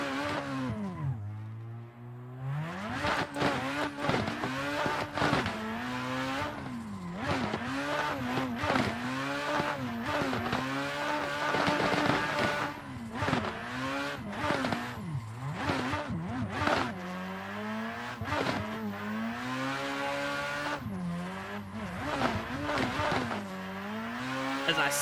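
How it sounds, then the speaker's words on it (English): An SR20-powered Nissan S15 in the Assetto Corsa racing game, its engine revving up and down through gear changes with tire squeal between, loud and continuous while someone talks over it. "Sounds like an SR20 powered S15."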